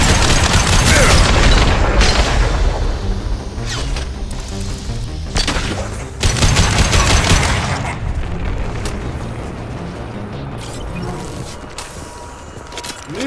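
A firefight in the video game Mass Effect 2 erupts in loud bursts of gunfire and heavy booming impacts, strongest at the start and around six seconds, then tapering to scattered shots under a lingering rumble.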